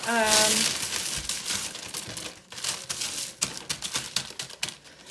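Parchment paper is torn and crinkled by hand in a kitchen during baking, giving a run of sharp, irregular crackling rips at close range, with a brief voiced sound at the start.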